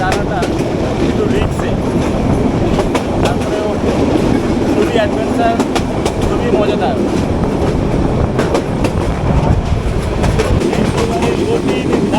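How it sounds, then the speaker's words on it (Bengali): A moving train near Pirgachha upazila in Bangladesh roars with a loud, continuous rumble and rattle of rail cars, rushing wind and a rhythmic clickety-clack throughout. "ট্রেনের যে গতি আর বাতাস"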